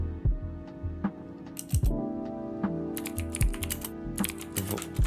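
Computer keyboard typed on at a game-dev desk: irregular bursts of sharp clicky keystrokes, a few spaced taps and then quick clusters, close and clear over a low background hum, with no talking.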